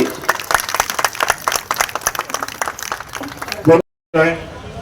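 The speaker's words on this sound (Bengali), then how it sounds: "সবাই একটা হাততালি" A gathered crowd at an outdoor political rally claps in a dense burst of applause that runs for several seconds before a brief cut, with voices and a loudspeaker beneath.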